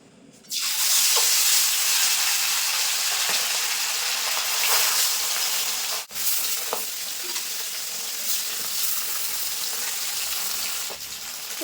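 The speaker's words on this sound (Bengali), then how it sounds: "তেল কিন্তু খুব ভালোভাবে গরম হয়ে গেছে এখন মাছগুলো ভেজে নেব" Pabda fish dropped into well-heated oil in a wok, a loud sustained sizzle rising abruptly and holding steady with occasional crackles and a brief dip, close, no talking.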